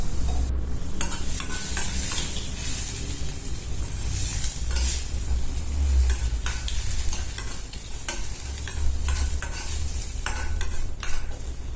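Turmeric, salt and drumstick leaves stirred in a frying pan for a Kerala vegetarian dish: a utensil scrapes and clatters in repeated strokes over a constant, loud sizzle, close and with no talking.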